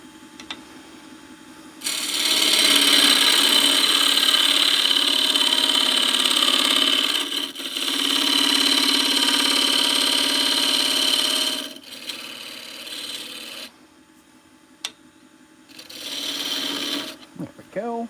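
Wood spins on a lathe as a tool shapes the outside of the piece, a steady loud rasping, shaving roar in long stretches broken by brief pauses with a motor humming underneath.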